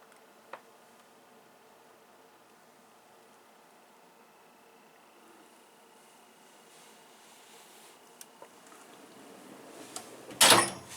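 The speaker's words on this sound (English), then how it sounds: "My banging drawer." A drawer on a Masterforce 42-inch by 25-inch metal toolbox, a double-slide bottom drawer, slides and bangs shut near the end with a loud, sharp metallic clatter after quiet handling.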